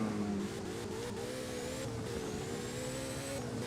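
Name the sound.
car driving around corners in video game Driving Empire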